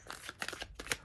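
Tarot cards being shuffled during a reading, a few soft quick riffling bursts close to the mic, quiet and separated by brief pauses, with no voice.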